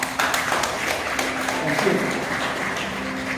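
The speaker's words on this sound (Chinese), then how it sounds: "我们再次用祝福的掌声给你" Guests applaud the newlyweds at an Amis wedding ceremony, with steady crowd clapping filling the whole stretch and a brief spoken word over it.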